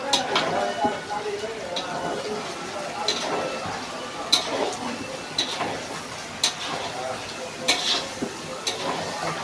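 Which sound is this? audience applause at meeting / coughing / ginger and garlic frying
ginger and garlic frying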